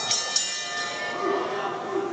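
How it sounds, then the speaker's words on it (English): A wrestling ring bell rings with sharp strikes near the start of a main event match at a pro wrestling show, its tone ringing on behind steady crowd noise and faint commentary. "And there you hear the bell starting off our main event match here."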